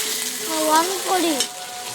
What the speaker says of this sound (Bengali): চিংড়ি মাছটা দিয়ে নিয়ে হালকা একটু নেড়ে ছেড়ে নিচ্ছি